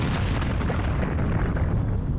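A deep explosion sound effect rumbles continuously, a dense low roar of blast noise that stays loud and steady from start to finish with no talking.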